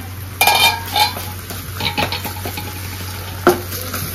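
A lid is lifted off a pan of onion and tomato cooking for sarson da saag, giving a few brief clinks and scrapes over a low steady simmering hiss, with a steady hum underneath.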